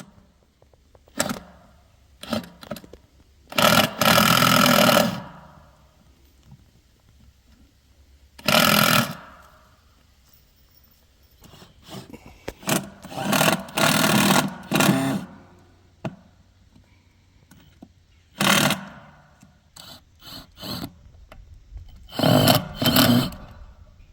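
Screws driven into plastic septic tank riser sections that lock together with caulking: a series of short, loud bursts from a power driver, some single and some clustered in quick runs, separated by quiet pauses.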